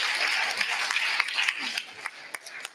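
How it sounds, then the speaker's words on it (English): Applause from a live seminar audience welcoming a woman onto the stage, a dense broadband wash of clapping with sharper individual claps standing out toward the end. "give her a round of applause."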